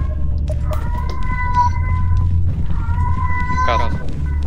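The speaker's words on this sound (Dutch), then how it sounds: "Een kat." Cat meowing in a spooky horror video game, two drawn-out wavering cries over a steady low game drone, with a short rattling sound near the end and faint talk in the background.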